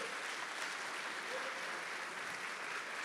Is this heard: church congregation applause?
yes